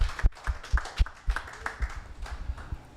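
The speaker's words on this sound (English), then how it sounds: "let's give Miss Nikki and RJ's a round of applause for hosting us today" Sparse, uneven clapping from a small lunch gathering honoring two hosts, a few separate hand claps rising and fading over a few seconds rather than a full ovation, set against faint room noise.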